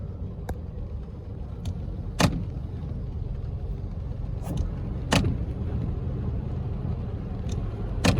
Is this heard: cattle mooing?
no